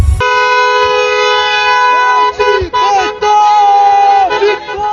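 Car horns blaring loud and close at a street celebration by Congolese crowds in Brussels, one long sustained blast layered with other honks and toots, breaking briefly near the end, with voices and crowd noise underneath.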